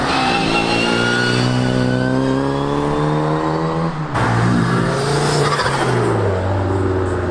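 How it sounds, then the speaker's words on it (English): A small Mini's engine revs and pulls past on a road during a modified car meet, loud and close, its pitch climbing through gears then dropping as it passes and another engine note follows. "This little Mini sounds awesome."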